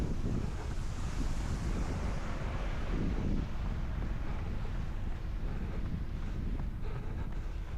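Steady, loud wind buffeting on a microphone from a headwind during an outdoor park run, a continuous broadband roar with no voices.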